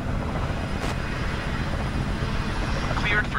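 A steady aircraft engine drones through takeoff in Microsoft Flight Simulator, with an Infinite Pelican departing Haneda Airport; the broadband roar stays loud and even throughout, with no pauses.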